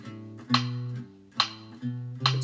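Plucked guitar notes in short groups, each attack bright and ringing over sustained low notes, stepping through a repeating melodic pattern.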